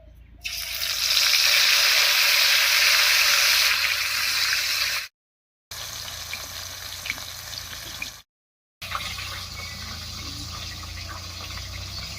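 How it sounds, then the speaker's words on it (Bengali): A fish head rubbed with turmeric and salt fries in mustard oil in a kadai, a loud, dense hiss that surges at first, then settles into a steadier sizzle across several cuts. "কড়াইতে সর্ষে তেল দিয়ে মাছের মাথাটা ভেজে নেব"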